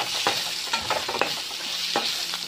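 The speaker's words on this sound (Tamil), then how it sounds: "இப்போ ஆனியன் கூட கருவேப்பிலையும் சேர்த்து நல்லா வதக்கிட்டுருக்கேன்." Chopped onion and curry leaves sauté in hot oil in a pan for a Tamil home lunch, a close steady sizzle broken by several scraping stirs of a spoon.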